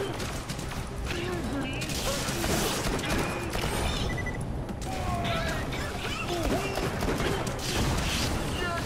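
Gunfire from Borderlands: The Pre-Sequel, dense and continuous across the whole stretch, mixed with other game effects and mechanical clatter while players talk over it.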